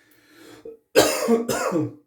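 Two or three rough, dry coughs close by, preceded by a faint throat-clearing sound, with brief silence between bursts.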